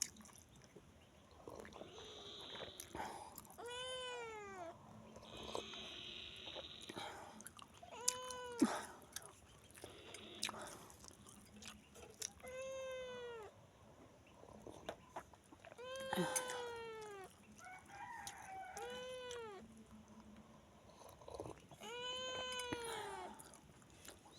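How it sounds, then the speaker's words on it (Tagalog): Several cats meow repeatedly, close by, with rising and falling cries spaced every few seconds over soft background noise and occasional chewing sounds. "Itong mga pusa."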